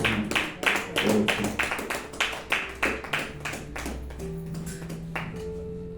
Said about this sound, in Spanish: Vamos a darle un fuerte aplauso al Rey.